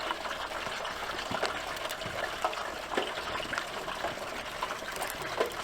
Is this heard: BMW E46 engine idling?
no